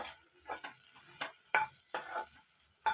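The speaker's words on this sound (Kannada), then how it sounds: "ಆಮೇಲೆ ಎಣ್ಣೆ ಹಾಕಿ ಒಂದು ಪ್ಯಾನಲ್ಲಿ ಅದನ್ನು ಹುರಿಬೇಕು" Okra fries in oil in a pan, with a soft steady sizzle under repeated scraping strokes of a spatula stirring, close and fairly quiet.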